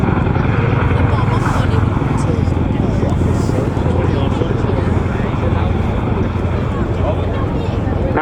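An RAF aircraft flies a display at the RAF Cosford Airshow, heard as a loud, continuous roar with wind buffeting the microphone and no clear break in the noise.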